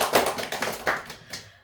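Scattered hand claps from a small church gathering at an evening testimony meeting, a few uneven bursts that taper off quickly into quiet.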